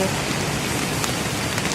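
Heavy rain pours down in a cemetery during an evening ghost walk, a steady dense hiss of drops striking surfaces that runs through the whole short stretch with no let-up.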